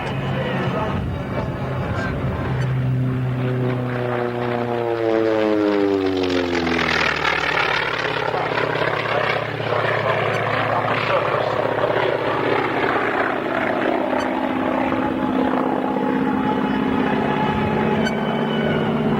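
A propeller aircraft roars past at low level over the surface at a 1993 air show in South Weymouth, its engine drone rising then falling in pitch as it passes close by, with a commentator talking over it throughout.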